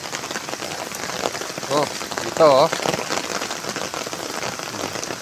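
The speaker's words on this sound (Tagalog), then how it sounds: "Lalaki ng patak ng ulan." Heavy monsoon rain with large raindrops drums steadily on surfaces in a dense, constant patter. Someone speaks briefly over the downpour.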